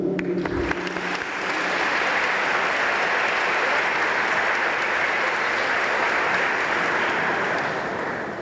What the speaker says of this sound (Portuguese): Mais uma salva de palmas, por gentileza.